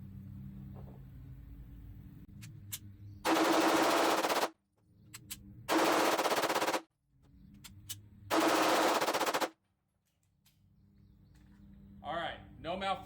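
An HK VP9A1 F pistol with a GR8 port fires in three loud bursts of rapid shots during a 650-round function test, each string lasting about a second, separated by quiet gaps with low outdoor background.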